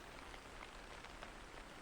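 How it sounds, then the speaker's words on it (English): Steady rain pours down in a video game world, a soft, even hiss of drops on surfaces that holds constant and close throughout, with no voices. "The rain's really relaxing."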